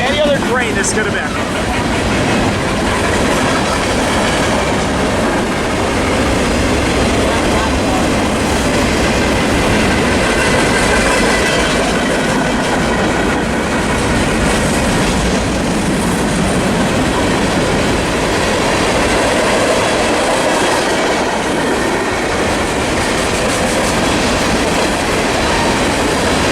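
Freight train rolling past near the railroad at Commerce and Fullerton, a loud, steady rumble of wheels with faint clickety-clack and occasional squeal that continues throughout.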